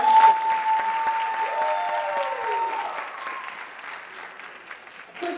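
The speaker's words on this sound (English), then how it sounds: "I hope that you can join me in a round of applause for Mrs. Weiss" Audience applauding at a high school Black History program, dense steady clapping that tapers off gradually over about five seconds.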